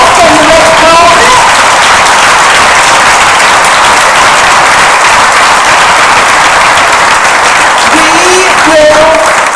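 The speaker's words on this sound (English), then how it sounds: "give them a huge sort of round of applause on their way" An audience at a 2016 IB graduation ceremony gives a sustained, dense round of applause as graduates walk the red carpet. The clapping is loud and continuous throughout, with faint tonal sounds near the start and end.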